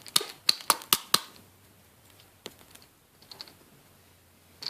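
A light-up pen taps sharply against a hard surface about five times in a quick burst, followed by fainter scattered clicks.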